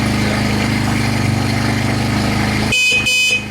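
A 150cc go-kart engine idles with a steady low drone, then the horn sounds in two short, loud, bright honks close by near the end.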